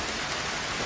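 Rain falling on a forest path under thick trees, a dense, steady hiss of drops with no pauses or voices over a brief moment.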